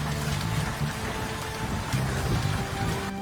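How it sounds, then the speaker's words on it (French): Heavy hail pounding down in eastern Queensland, Australia, a dense, steady roar of countless impacts on roofs and surfaces, loud and continuous throughout with no voices. "Une énorme grêle a frappé la partie orientale du Queensland"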